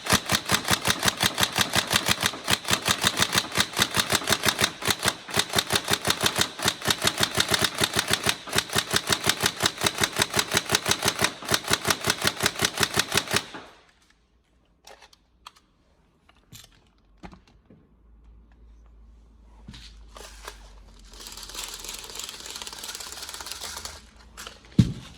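A Tokyo Marui 416 Devgru NGRS airsoft electric gun fires in a long rapid-fire burst of dense, even mechanical clatter, loud and close, then stops abruptly, leaving quiet handling clicks and faint shuffling.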